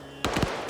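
A grenade explosion in a video game lands as a sudden loud burst with a brief rumbling tail, cutting through a steady background hum.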